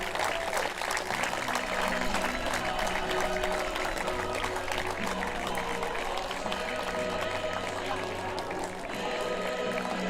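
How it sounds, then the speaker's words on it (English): Crowd applauding the twelve teams at the opening of the 2023 Men's Softball European Championship, a steady wash of clapping running the full length with a bright, busy texture and low arena rumble beneath. "give them a big round of applause"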